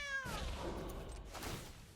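A cat meows in the card game MTG Arena, one short clear meow with a rising tone that drops off, followed by faint game effects.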